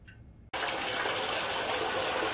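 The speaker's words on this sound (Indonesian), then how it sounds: "Ini dia airnya udah jalan ya." Water from a bore well pump suddenly gushes through a sand filter after a brief quiet moment, then rushes on as a loud, continuous, close-up stream.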